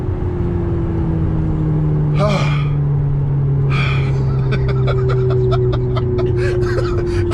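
A Ferrari supercar pulls hard, its engine drone climbing steadily in pitch from inside the cabin, while a passenger laughs and gasps over it.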